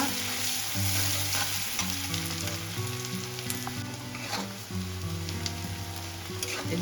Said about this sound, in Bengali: একটু ভেজে নেব পেঁয়াজটা